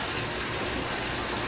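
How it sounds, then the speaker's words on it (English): Tap water gushing steadily into a bathtub, a loud, continuous broadband rush close by with no pauses and no talking. "Is the water loud?"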